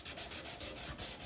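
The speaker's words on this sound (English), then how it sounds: "now I can do a little bit of hand sanding just to get rid of my diagonal lines" Hand sanding a desert ironwood knife handle: close, quiet, rhythmic rasping strokes at a steady pace of roughly five or six rubs per second.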